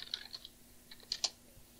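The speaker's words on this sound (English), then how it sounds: "I typed Monday 7" Quiet, close typing on a computer keyboard, a few scattered clusters of light clicks with pauses between them, no voices.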